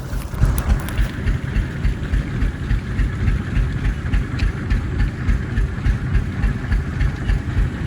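An Eicher 242 tractor drives a PTO water pump, producing a loud, steady, rumbling engine drone with a rhythmic chug and gushing undertone, close and continuous with no talk.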